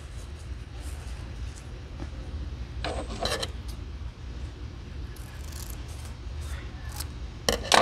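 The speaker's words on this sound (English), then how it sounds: "Now you have to cut the ends." Scissors cutting the ribbon tails of a bow, several quiet, close snips and rustles of ribbon over a low background hum.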